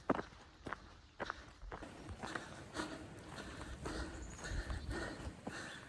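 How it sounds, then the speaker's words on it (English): Steady footsteps climbing a mountain on the Appalachian Trail on a warm day, crunching close and rhythmic over the ground, with heavy breathing and outdoor ambience throughout. "I just want you to hear the sound of climbing a mountain"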